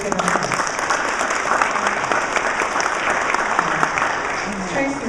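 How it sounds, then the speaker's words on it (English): An audience at an annual meeting claps for a group of Girl Scouts, a dense, steady patter of many hands that continues without a break, fairly close and evenly loud throughout. "So let's give them a hand."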